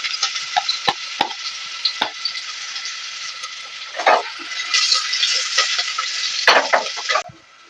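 Onions frying with a little turmeric in hot oil, a steady close sizzle with intermittent stirring clatters and scrapes throughout, stopping abruptly near the end.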